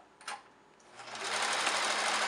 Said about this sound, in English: Now I'm just going to sew the very bottom.